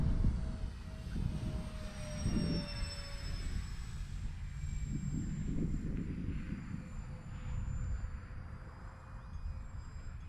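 Propeller airplane engine droning in flight in a flight simulator game, a steady low hum with faint whining tones above, fairly quiet and alone with no talk.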